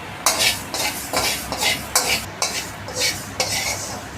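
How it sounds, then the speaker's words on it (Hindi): Fenugreek seeds and chana roast in a pan, stirred with a spoon in a regular rhythm of about nine dry scraping strokes over a light sizzle, close by. "मेथी इस तरह से भून जाना चाहिए।"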